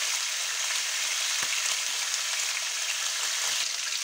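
Chunks of pork head loin fry in a small batch of hot oil, giving a constant bright sizzle with a single sharp pop partway through and no voices.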